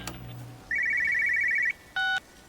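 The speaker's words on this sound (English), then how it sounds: "I hear a phone." A telephone rings inside the video game Everybody's Gone to the Rapture, with a long electronic trill followed by a shorter second burst after a brief pause. It sounds loud and close, with no talking over it.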